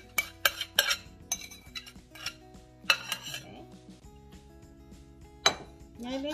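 A marinade for fried beef being stirred in a bowl, sharp metallic clinks and taps of a spoon against the dish in irregular bursts, close up, with a voice speaking at times between the strokes.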